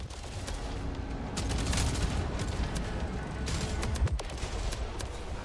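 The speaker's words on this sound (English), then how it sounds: "I hear cannons dialing up." Ship cannons fire in a naval video game battle, with a heavy rumbling barrage of booms and scattered sharp cracks over continuous loud battle noise and a sharper blast near the end.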